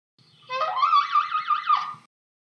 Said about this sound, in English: a trumpet trill is, quote, one of the less refined techniques and is therefore rarely used.